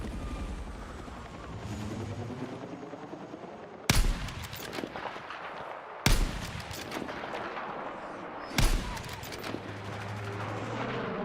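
Video game gunfire: three loud, sharp bursts of shots ring out at intervals over a steady background of game ambience and music.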